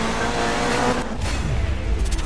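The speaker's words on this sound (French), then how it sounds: "J'entends les bruits de bagnole." Engine roar from a rally car in the Dirt 3 racing video game, a loud continuous drone that dips and surges as the car shifts and slides, with no talk over it.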